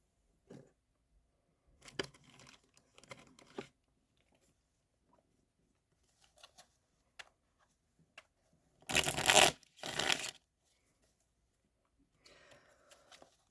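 A deck of cards being shuffled, with scattered soft flicks and taps followed by two loud riffling bursts close by, then quiet.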